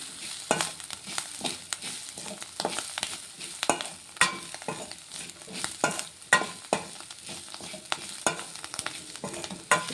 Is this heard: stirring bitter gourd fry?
yes